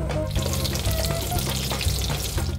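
Oil sizzles steadily in a hot pan for chili pepper oil, a loud continuous frying crackle with faint stirring throughout.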